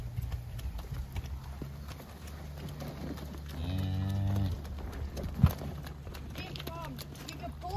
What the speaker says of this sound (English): Almost every calf that is born during the day is brought into the barn on this sled using the horses.